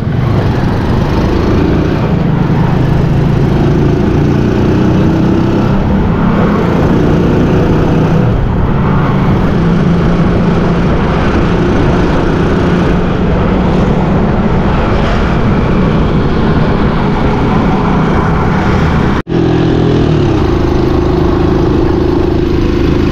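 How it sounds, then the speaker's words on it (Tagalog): A motorized tricycle engine runs continuously and loudly from up close, a steady droning rumble with slight shifts in pitch and no speech over it. "Makakauwi pa kaya ng tricycle na ito."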